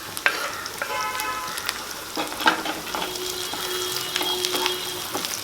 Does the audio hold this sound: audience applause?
no